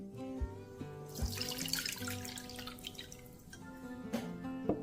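Radish water is poured from one glass into another, a soft, close trickle with small splashes and drips, quiet and alone.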